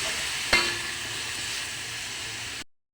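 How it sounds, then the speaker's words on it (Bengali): Malabar spinach and mixed vegetables sizzle steadily in a pan, with a sharp clatter as they are stirred together early on, then a continuous even frying hiss until it cuts off. "এখন মিশিয়ে দেবো সব সবজিগুলো।"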